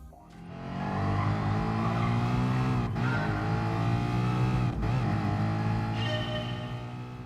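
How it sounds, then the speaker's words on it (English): Ford Mustang Gr.B road car racing two laps through the streets of Willow in Gran Turismo Sport, its muscle-car engine roaring loud and steady with shifting revs and gear changes, tires squealing in places, no voices. "American Muscle at the streets of Willow, 2 laps, in a Ford Mustang Gr.B road car."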